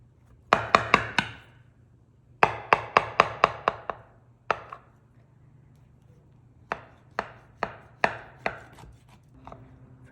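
A knife cuts through a glazed raspberry fritter on a board, producing clusters of sharp, rapid chopping taps in quick bursts separated by short pauses, close and clear against a faint steady hum.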